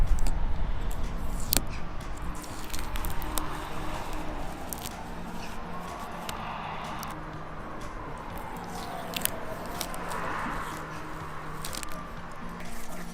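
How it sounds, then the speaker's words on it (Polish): Crackly, sticky peeling noise of adhesive tape being pulled off a glued camper trailer window, close up and steady, with small sharp clicks scattered through and no talking. "Tą taśmę sobie oderwiemy."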